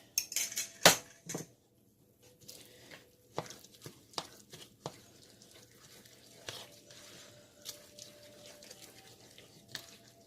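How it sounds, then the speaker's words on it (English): Banana oat muffin batter being stirred in a bowl, heard as sparse clinks and knocks of a utensil against the bowl, with a sharp loud clatter near the start and softer, irregular scrapes and taps after, close and without talk. "Just make sure everything is stirred up really good."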